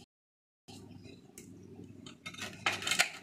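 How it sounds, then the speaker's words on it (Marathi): A knife cuts through taro (colocasia) leaf stems on a board in a home kitchen. After a brief silence come faint, close, irregular cutting and scraping clicks that grow louder and busier toward the end. "प्रथम आपण देठ कापून घेतोय।"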